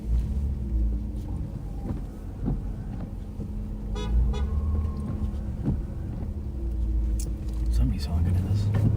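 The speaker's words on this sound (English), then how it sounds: "Somebody's honking at us." A car horn honks at a deputy's patrol vehicle on a road, brief, fairly distant toots over a steady engine rumble and cabin noise, with people talking nearby.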